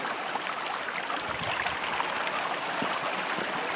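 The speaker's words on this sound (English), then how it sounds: "jump over this small stream." A small stream runs across a hiking trail crossing with no bridge on Squak Mountain, producing a steady, close, broadband rush of flowing water that fills the whole moment without pause.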